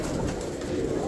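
Pigeons and doves cooing at a Thursday bird market in Baghdad's Adhamiya district, soft low coos repeating over a steady murmur of birds and market bustle.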